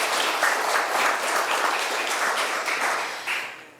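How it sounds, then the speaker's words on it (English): Audience at a community planning event applauding, a sustained, even roar of many hands clapping that holds for several seconds and tapers slightly at the end. "So I would love for you to give yourselves a hand and of applause tonight for your contribution to our plan,"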